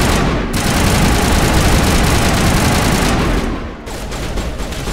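Loud, sustained automatic gunfire from the video game Mass Effect rattles on without pause, then briefly thins before resuming at close range, with a low engine-like rumble underneath.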